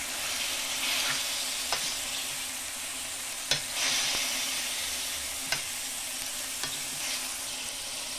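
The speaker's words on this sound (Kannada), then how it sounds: "ಸೊ ಎಣ್ಣೆಯಲ್ಲಿ ಅದು ಚೆನ್ನಾಗಿ ಫ್ರೈ ಆಗಲಿ." Chicken sukka frying in oil in a home kitchen, giving a steady close hiss and sizzle throughout with occasional sharp clicks of stirring against the pan.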